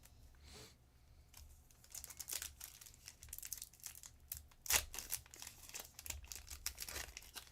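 Trading card packs for Pokemon and Magic: The Gathering being ripped open, close crinkling and tearing of foil wrappers in irregular bursts, with one sharp rip standing out, no voices.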